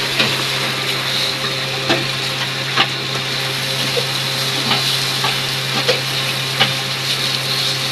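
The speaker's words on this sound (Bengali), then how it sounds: "এদিকে আম্মু আলু ভাজি করছে।" Potatoes frying in a home kitchen pan, a loud steady sizzle close by with occasional light scraping and stirring clicks.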